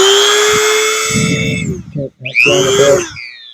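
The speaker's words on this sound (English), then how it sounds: "The Dremel you're going to hear is a little bit higher." Dremel rotary tool at low speed sharpening garden trimming tools, a loud close whine that fades, then brief grinding contact bursts before the whine rises again.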